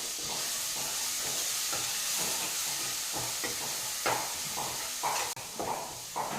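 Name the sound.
paste frying in oil in a pan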